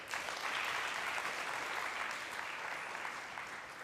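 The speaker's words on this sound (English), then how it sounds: "Can we give her another round of applause?" Sustained applause from a TEDxYouth audience at UWC Thailand, a dense steady clatter of many hands clapping at once, even and loud throughout before easing slightly toward the end.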